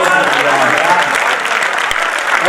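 An audience at a Hindi-Urdu mushaira poetry recital breaks into dense, loud applause that fills the entire short stretch, with voices and cheering mixed into the clapping.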